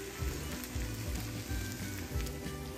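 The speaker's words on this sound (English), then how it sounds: "now I'm gonna cook it on medium flame again for 2 minutes" A veggie-loaded stuffed omelet on brown bread sizzles in a pan over a medium flame, a soft, steady fizzing with gentle low bubbling pulses, fairly quiet and unbroken by talk.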